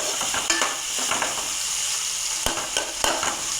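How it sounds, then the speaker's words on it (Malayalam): Tomatoes, onions, green chillies and a pinch of fenugreek fry in a pan for a curry, giving a steady sizzle punctuated by sharp spoon scrapes and taps as they are stirred. "കറിക്ക് ആവശ്യമായിട്ടുള്ള തക്കാളിയും ഉള്ളിയും പച്ചമുളകും നമ്മൾ ലേശം ഉലുവി ഇട്ടിട്ട് നല്ലപോലെ ഒന്ന് നമ്മൾ ഇളക്കി കൊടുക്കുക."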